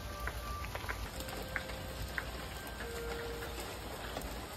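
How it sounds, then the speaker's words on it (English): Steady rain falls over a broad, even hiss, with occasional faint drips and ticks and distant tonal sounds in the background; no one speaks. "I know it's raining."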